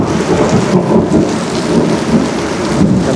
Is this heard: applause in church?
no